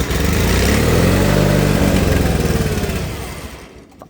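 A John Deere 420 gas lawn tractor, worn and burning oil, cranks hard on a cold start: a loud, continuous churning engine roar that gradually fades out near the end, with no talking.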